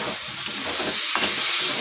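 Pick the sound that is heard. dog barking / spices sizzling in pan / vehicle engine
spices sizzling in pan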